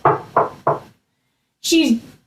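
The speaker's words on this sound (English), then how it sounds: "So when Little Red came knocking on the door," Three loud knocks on a door in quick, even succession, then a pause before a deep, scratchy voice speaks.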